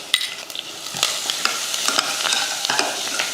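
Curry leaves, rasam spice powder and turmeric sizzle and crackle steadily in hot oil, with a spoon scraping and clicking against the pan as they are stirred. No one speaks.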